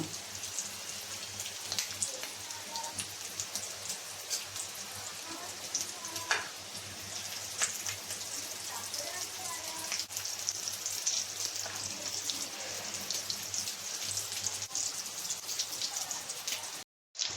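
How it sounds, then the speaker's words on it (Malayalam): Masala rolls deep-frying in hot oil, a steady close sizzle with crackling pops and bubbling throughout, at a fairly soft level, no voices. "ഇതും അതുപോലെ തന്നെ നമുക്കൊന്ന് വറുത്തെടുക്കാം"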